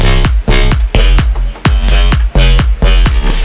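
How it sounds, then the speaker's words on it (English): Electronic bass line with Waves CLA Guitar distortion layered onto its upper range while the low end stays clean, loud, gritty repeating notes in a steady rhythm with no voices. "I've then got a second level of distortion using CLA guitar."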